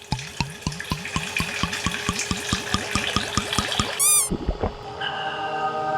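Water dispensing from an RO water purifier, preceded by a fast regular series of sharp clicks or beeps, then a brief electronic chirp and a soft steady trickle of water near the machine.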